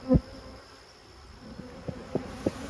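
Honey bees buzz faintly at an open hive of a fussy colony after a killing frost, with several soft taps as bees bump against something.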